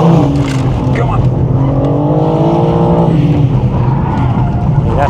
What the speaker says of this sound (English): The S58 engine again, fantastic engine, it really is.